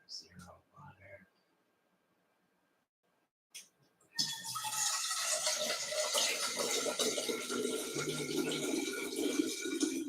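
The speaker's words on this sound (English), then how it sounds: "So I'm just gonna add a little bit more water." After brief speech and a pause, water suddenly starts pouring into a pot for vegetable broth, a steady rushing splash that continues loudly to the end.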